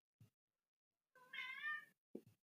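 A cat meows once in a clear, drawn-out, wavering cry, bracketed by two short, soft sounds, with silence in between.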